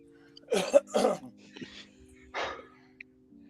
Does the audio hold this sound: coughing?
yes